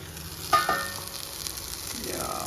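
Gongura leaves cook in a pan with a soft, steady sizzle, broken by a couple of short scraping stirs near the start and a faint metallic clink.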